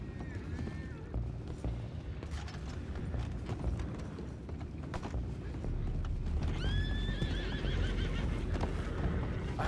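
Horses whinny and neigh in the Red Dead Redemption 2 video game, with two clear high calls over steady clip-clopping hooves and a rumbling outdoor game background.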